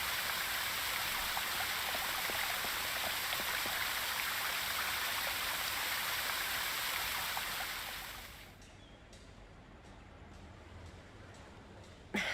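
A fountain water jet in the adventure game Secret Files 2 runs as a steady hissing rush of water that drops off abruptly near the end, leaving a quieter background with faint clicks.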